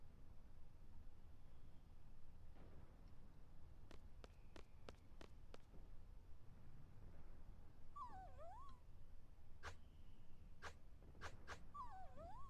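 A dog in Final Fantasy VIII Remastered whimpers and yips in short bursts, with a few high, wavering whines over faint background ambience.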